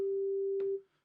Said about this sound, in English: So let's start with a simple sine wave.